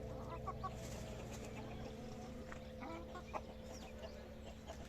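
Free-range ornamental chickens and roosters on a farm cluck softly in scattered bursts, fairly faint against a low steady background hum.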